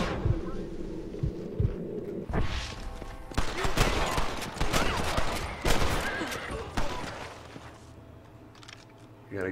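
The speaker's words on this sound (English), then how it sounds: "Here's somebody shooting over here." Gunfire in the Western video game Red Dead Redemption, heard near a small frontier town: scattered and clustered shots, some close and sharp, mixed with game sound and occasional voices.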